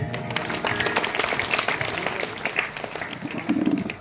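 An audience at a temple festival discourse event claps, giving dense, sustained applause nearby that holds steady for a few seconds, with a faint voice underneath.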